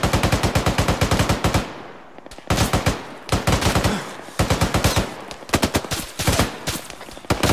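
Automatic gunfire in the military shooter Arma crackles in loud, rapid bursts, several long strings of shots broken by short pauses, with no talking over them.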